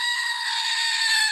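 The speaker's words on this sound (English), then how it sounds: "we'll try not to have the goat scream and wake you up" A goat scream sound effect is played back, giving one sustained, shrill, bleating cry that holds loud and steady for over a second with no talk over it.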